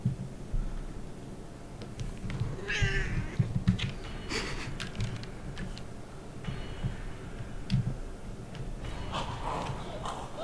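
A cat meows in the Dead Island video game, short mews rising now and then over a steady bed of game ambience and low rumbling, with no talk.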